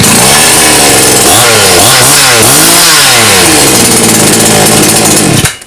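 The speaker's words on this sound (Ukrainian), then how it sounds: "пила заводиться, все перевірив, гарно завелася" A GoodLuck GL4500M 45cc petrol chainsaw, just started after repair, runs loud and close with the engine revving up and down in waves, then cuts off abruptly at the end.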